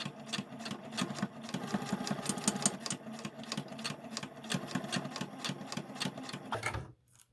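A home sewing machine stitches a strip of velcro onto fabric for a sandwich pouch, its needle running in a steady, rapid mechanical chatter close by, then stopping abruptly near the end.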